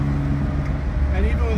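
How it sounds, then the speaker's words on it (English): A 1962 Aston Martin DB4 Series IV engine drones while driving on an on-ramp, its pitch climbing as it revs near the end, heard from inside the cabin beneath a voice. "You see the car revs really well."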